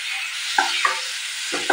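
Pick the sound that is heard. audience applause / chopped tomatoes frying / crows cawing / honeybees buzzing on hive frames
chopped tomatoes frying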